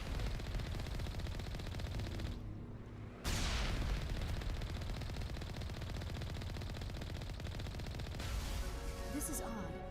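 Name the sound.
turrets firing, Mass Effect 1 video game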